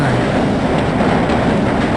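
A subway train rolls through a transit system in the video game Half-Life: Blue Shift, giving a loud, steady rumble with a rattling clatter that holds unbroken for the whole stretch.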